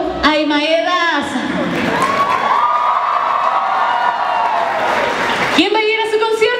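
A loud crowd at a Digimon cosplay event in Guatemala cheers, whoops and claps for Ai Maeda, a sustained roar of many voices with shrill children's shouts, framed by a host speaking over a microphone before and after.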